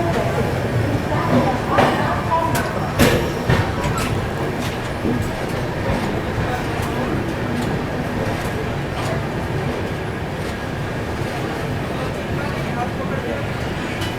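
The AP Sampark Kranti Express rolls through Mathura Junction without stopping, heard from inside the coach as a continuous rumble with a few rail clicks and rattles early on, while a voice talks over it.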